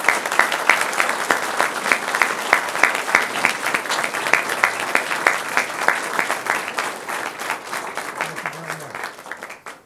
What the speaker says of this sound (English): Would you all please stand and join me in a round of applause for these great Americans?